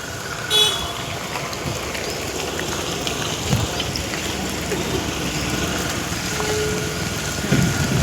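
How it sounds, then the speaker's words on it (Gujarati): Heavy rain pours in a constant roar on a street, with a short horn toot near the start and faint traffic sounds. "વરસાદ વધારે પડે"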